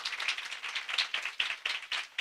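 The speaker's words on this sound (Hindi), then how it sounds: "जोरदार तालियां, जोश से" Church congregation clapping during a sermon, many hands in loud, fairly even rhythmic claps, close and continuous with no talk over them.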